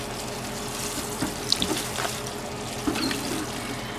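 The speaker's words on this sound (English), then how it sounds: "So I'm gonna just put a little bit more water on this side," Water splashes steadily onto a dry garden compost pile in a backyard, a close pouring hiss with a few soft thuds and spatters, no talking.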